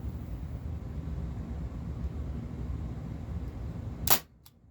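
A single sharp pop from a Beretta M84 FS 4.5mm CO2 air pistol with blowback rings out after a few seconds of steady background hiss, followed by quiet.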